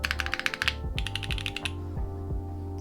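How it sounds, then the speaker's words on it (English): Keystrokes on a $149 budget mechanical keyboard with numpad. A quick burst of clicky presses comes first, then another flurry and a few slower, separate strokes, close and crisp, with no talking. "Overall, the sound of this board carries."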